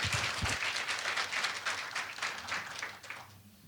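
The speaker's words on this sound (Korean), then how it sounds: "최연애 사장님을 큰 박수로 맞이하여 주시기 바랍니다." An audience at a natural gas industry forum claps to welcome the company president to the podium, dense even applause fairly loud at first and fading toward the end.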